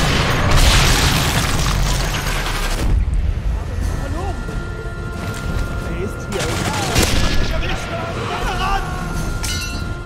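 Rifle shots and heavy booms ring out in Sniper Elite 3 Afrika gameplay, several loud bursts with echoing tails, mixed with other game effects.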